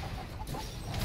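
Chicken clucking from the video game Paladins, a short run of fowl clucks over a dense, noisy game mix with low rumble throughout.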